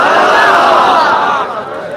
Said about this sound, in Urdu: اس حسین ساعت میں یہاں پر جو ٹھاٹے مارتا ہوا انسانی ہجوم ہے